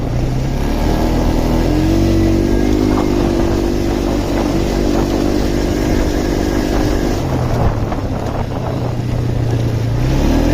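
Polaris Trailblazer engine revving loudly and continuously up close, pitch climbing and holding, dropping briefly near the end before rising again.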